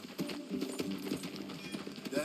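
A horse's hooves clip-clop in Red Dead Redemption 2, making a quick, steady rhythm of moderate loudness under character dialogue.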